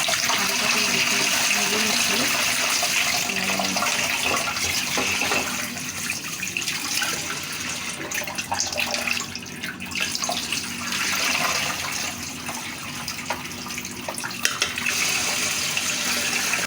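Soaked rice and lentils are rinsed in a pot under a running kitchen tap, a steady close rush of water with shifting swishes and clatters as the grains are stirred, and no talking.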